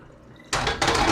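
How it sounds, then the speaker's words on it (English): Running water bursts suddenly into a cooking pan, making a loud, close, hissing splash that briefly dips and then surges again as the pan is rinsed. "You can just rinse this pan out."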